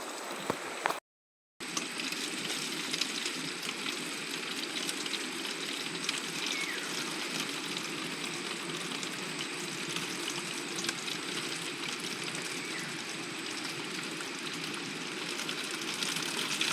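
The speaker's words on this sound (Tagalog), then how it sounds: "Lakas po ng daloy ng tubig oh." Strong flow of stream water at a rural water-drawing spot, a steady broadband rushing that stays loud and continuous throughout, briefly cut off near the start, with no voices.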